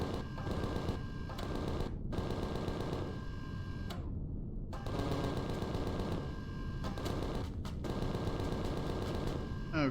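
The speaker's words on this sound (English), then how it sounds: "Let's just go ahead and activate our weapons." Rapid bursts of weapon gunfire in the sci-fi survival game Empyrion: Galactic Survival, rattling in fast automatic volleys broken by short pauses, fairly quiet overall.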